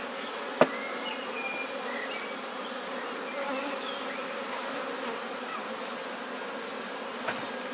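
Honeybees hum in a steady, dense drone close by during a shook swarm, with a sharp knock on the hive early on and another faint tap near the end.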